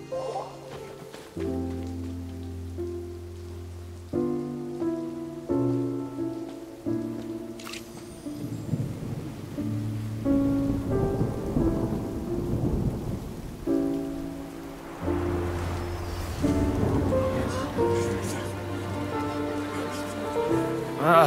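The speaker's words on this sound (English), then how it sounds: "It's raining! Oh no, Paimon forgot to bring an umbrella!" Rain falls with rumbling thunder in the video game Genshin Impact, a steady wash of rainfall under gentle melodic background music for about twenty seconds.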